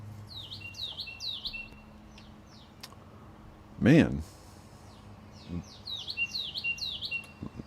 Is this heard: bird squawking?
yes